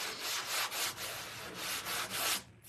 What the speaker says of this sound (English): I'm going to sand it just a tad to just smooth out the board.